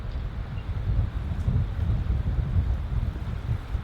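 Wind blows steadily across a hammock campsite, a continuous low rumbling buffet against the microphone with no pauses or voices.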